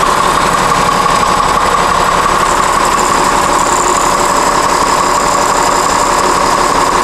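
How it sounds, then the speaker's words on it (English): A Cummins ISM diesel engine idles inside a 2006 Gillig transit wheelchair bus, giving a steady, even hum with faint mechanical ticking that holds at constant loudness throughout, with no talking. "There's that Cummins ISM humming along in there."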